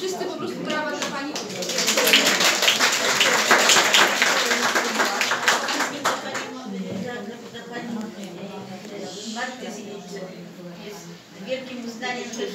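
Applause from a gallery audience at an exhibition opening, a burst of clapping for a couple of seconds early on that gives way to a person talking for the rest of the clip.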